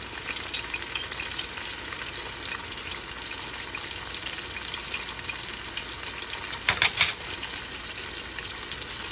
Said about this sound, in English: Gonna cover it. Let it saute.